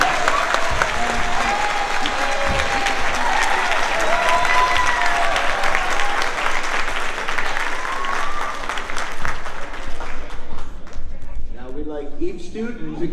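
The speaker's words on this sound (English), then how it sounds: "Let's give them a round of applause" An audience claps loudly and continuously for karate students at a new belt awards ceremony, a dense applause that fades out over the final few seconds while voices and noise carry on.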